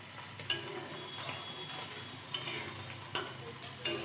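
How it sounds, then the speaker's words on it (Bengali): Hot water hits ridge gourd frying in a pan, bringing a steady close sizzle with scraping stirs and a few sharp knocks of a utensil against the pan. "এখন পরিমাণ মতো জল দিয়ে দিলাম জলটা গরম জলই দিয়েছি"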